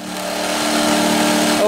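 Two Champion inverter generators running and building up speed, their steady mechanical hum with tonal engine lines swelling gradually in loudness across the short span, with a faint voice near the end.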